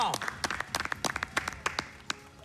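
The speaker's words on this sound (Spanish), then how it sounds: "¡Fuerte, fuerte, fuerte el aplauso!" Applause from an audience at a Spanish-language event, a burst of scattered, sharp hand claps that comes in uneven clusters, loud at first and thinning out toward the end.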